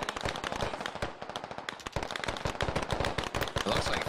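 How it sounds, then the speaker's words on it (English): Rapid bursts of gunfire from U.S. forces in the Squad military shooter game, dense overlapping shots and automatic fire crackling continuously and loudly throughout, with no pauses. "Squad is now taking fire from the U.S."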